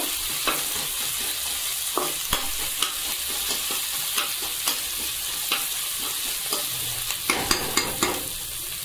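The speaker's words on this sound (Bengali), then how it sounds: "তো 2-3 মিনিট একটু নেড়ে চেড়ে নেব।" Chicken curry with spices being stirred and fried in a pan, a steady sizzle broken by repeated scrapes and knocks of the spoon, close and clear with no talking.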